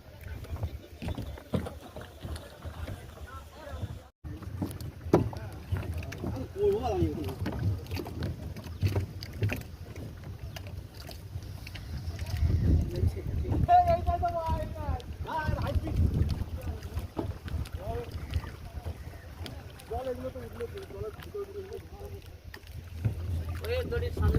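A speed boat motors along the Mayurakshi river near Massanjore Dam, its engine rumbling steadily under wind buffeting the microphone and water rushing past, while people talk over it throughout.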